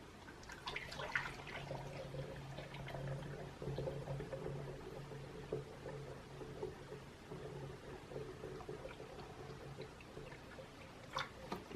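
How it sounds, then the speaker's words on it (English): Water pours quietly through a funnel into a jug while making mead, a soft continuous trickle with a low steady hum beneath, faint and fairly close, with no talk. "I'm still going to need the funnel because I need to add some water to this now."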